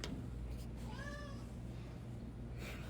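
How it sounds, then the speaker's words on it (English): A cat gives one clear, short meow near the middle, fairly close, over a low steady background hum. "My cat."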